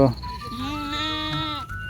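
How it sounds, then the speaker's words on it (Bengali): A goat grazing among many others bleats close by in one drawn-out, wavering cry, with a second fainter bleat near the end. "এখানে কাকি কিন্তু অনেক ছাগল এখানে চড়াইতেছে"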